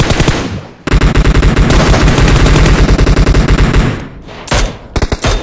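Rapid automatic gunfire from the video game PUBG, loud dense bursts filling most of the stretch, then a pause and a few shorter spaced shots near the end.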